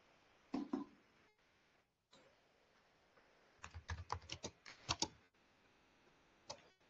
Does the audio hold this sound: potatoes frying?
no